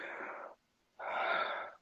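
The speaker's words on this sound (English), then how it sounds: "We're breathing like this through our stomach." Two long, airy breaths, close to the microphone with a short pause between them, as a person demonstrates diaphragmatic breathing through the stomach during a home workout.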